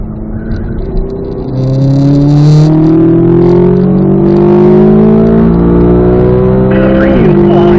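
A Chevrolet C8 Z06 Corvette accelerates hard on a race track, its engine note climbing steadily through the revs close and loud before a quick shift near the end.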